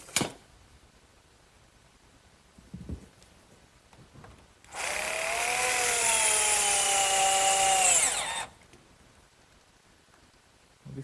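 A power drill drives a fastener into the wooden end of a sandbox frame, one steady whining run of about four seconds that rises slightly in pitch, preceded by a few small knocks and handling sounds.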